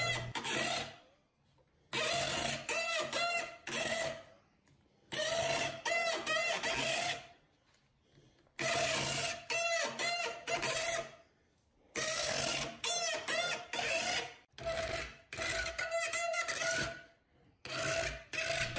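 A thread cutter turns down a wooden dowel, giving repeated close bursts of coarse rasping, each lasting a second or two and separated by short pauses as the tool works forward and backs up.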